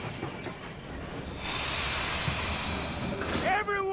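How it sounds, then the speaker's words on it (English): A steam train pulls into a station in the Western video game Red Dead Online, its wheels squealing and brakes hissing in a loud, steady rumble, with a voice speaking briefly near the end. "Train's coming in."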